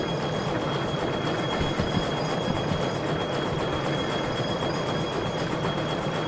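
A steam locomotive in the train simulator game Derail Valley rumbles along with a steady rolling drone, faint rhythmic clatter and a thin high whine running under it, loud and continuous throughout.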